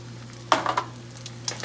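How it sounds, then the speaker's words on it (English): An egg is scrambled in a frying pan, producing quick scraping stirs and soft sizzling bursts over a steady background hum. "I'm just gonna scramble my egg"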